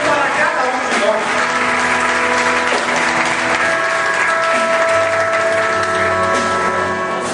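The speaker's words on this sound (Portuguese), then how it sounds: "Aplauda o Senhor, aplauda mesmo o Senhor" A church congregation applauding, dense sustained clapping from many hands filling the room, with voices and singing mixed in under the applause.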